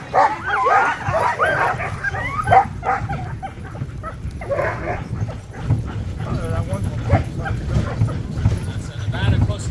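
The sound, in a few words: sled dogs barking and yipping in Juneau, Alaska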